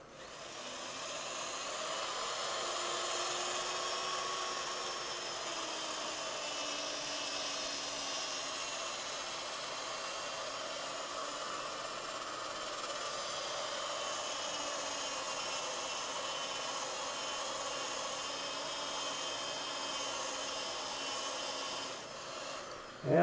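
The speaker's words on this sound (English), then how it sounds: "All right, now I can turn the lathe on. Fairly slow speed." A wood lathe spins a cherry burl bowl at slow speed, around 225 rpm, giving a steady, faint whirring hum with a soft rubbing texture that holds evenly for the whole stretch before a sudden knock at the end.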